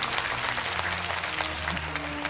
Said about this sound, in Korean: 박수로, 예, 청하겠습니다